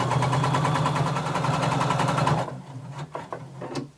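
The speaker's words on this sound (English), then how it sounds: "Now we're going to sew in 3/8 of an inch seam allowance." A sewing machine stitches a 3/8 inch seam allowance, running steadily and close for over two seconds with a fast, even stitch pulse, then stopping and leaving a few soft clicks and handling noises.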